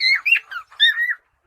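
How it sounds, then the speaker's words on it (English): Bird call ringtone from a bird sounds phone app: a short, loud, clear sequence of bright chirps and whistled tweets, several quick notes in a row, close and alone. "Bird chirping could be an excellent addition to the standard notification tones."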